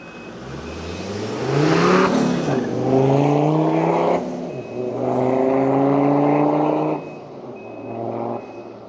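A Land Rover Defender Td5 90 fitted with a Darkside Developments turbo kit pulls away from a yard, its engine revving up through rising gear pulls in three surging bursts, loud and close, then easing off.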